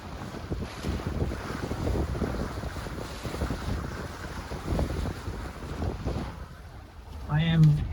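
A boat runs beneath the Bahia Honda Bridge in the Florida Keys, its steady engine drone and water wash mixed with constant wind buffeting the microphone, and a voice briefly rises near the end.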